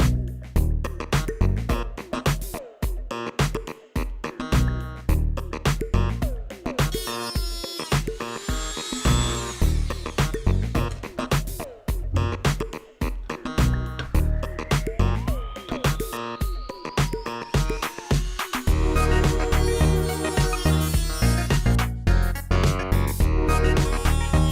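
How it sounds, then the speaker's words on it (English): A Dremel rotary tool cuts a nut in half while plastic trim is repaired on a Jeep Cherokee: a loud, close, high-pitched whine runs nearly nonstop, its pitch shifting and stuttering as the cutting wheel bites and eases off the metal. "take this Dremel tool and just cut this nut in half"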